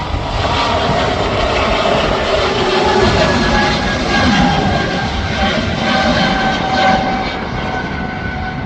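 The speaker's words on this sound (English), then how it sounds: "I promise there's a plane taking off." A loud Air Baltic propeller plane engine roars steadily and close during takeoff at Manchester Airport, its droning pitch holding throughout with a slight swell midway.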